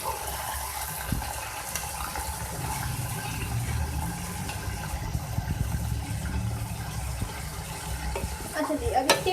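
Minced beef keema is stirred through browned onions in a pan, with a continuous low sizzle and scraping spatula strokes that grow busier near the end.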